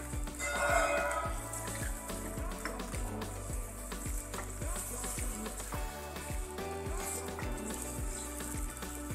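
Chicken frying in a pan for spicy Bombay biryani, stirred with a wooden spoon: a steady sizzle with regular scraping strokes and occasional clinks, close and continuous.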